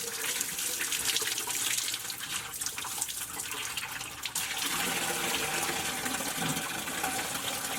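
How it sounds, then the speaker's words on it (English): Coolant from the radiator of a 1997 Dodge Ram Van draining into a bucket, a steady splashing, gushing pour of liquid that carries on without a break, with a slight change in tone partway through. "we got the coolant training inside the bucket"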